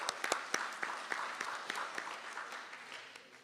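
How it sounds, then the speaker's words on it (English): A modest audience at a community meeting about the Houston ISD takeover gives light applause. The separate, distinct claps are fairly quiet and taper off over a few seconds. "So please give them a round of applause."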